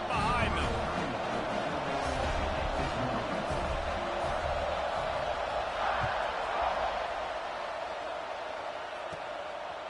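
Stadium crowd noise in the college football video game NCAA 26 ahead of a kickoff, a steady broad roar that stays loud throughout, with commentary voices talking over it.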